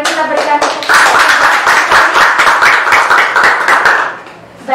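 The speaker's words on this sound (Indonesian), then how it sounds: "Mari kita berikan tepuk tangan." An audience at an Indonesian political talk show applauds for a Democratic Party guest, giving loud, close, dense clapping for about four seconds before it fades, with a voice heard briefly at the start.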